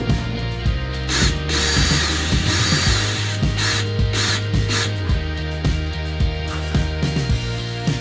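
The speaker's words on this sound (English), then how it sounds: "in order to countersink the center spar flange, I had to get pretty creative with my drill attachments" Power drill with an attachment countersinking the center spar flange of an aircraft fuselage, a close, loud whine in repeated short bursts with brief pauses between them.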